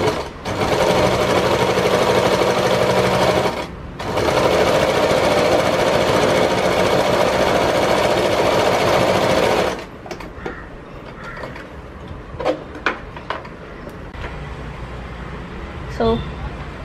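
Close, loud sewing machine stitches the border of a churidar sleeve in a long steady run with a brief pause, then stops, and someone talks over quieter handling.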